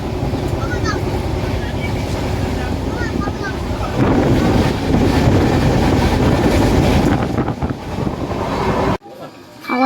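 A late-running train pulls into Bolpur Shantiniketan station with a loud, steady rumble and wind buffeting, which grows heavier partway through before cutting off abruptly near the end.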